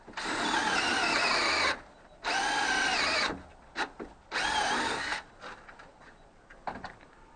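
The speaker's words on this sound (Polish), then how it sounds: "Kręci beleczkę." A power screwdriver drives screws into a formwork beam fixed to building blocks for a ring-beam form on a construction site, three loud whirring bursts of a second or two each, then a few short clicks and taps.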